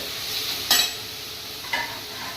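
Onions and tomatoes being stirred together in a pressure cooker pot for paneer butter masala, with a steady low sizzle and two short scraping clacks of the spoon against the metal, close and unaccompanied by talk.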